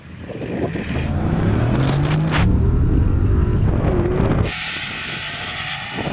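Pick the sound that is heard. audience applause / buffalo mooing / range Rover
range Rover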